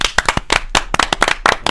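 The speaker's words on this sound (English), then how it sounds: "Round of applause to Sonko, boys." Close, loud clapping from a few people in a small podcast studio welcoming a guest named Sonko: quick, uneven bursts of individual hand claps in rapid rhythm, with no speech over them.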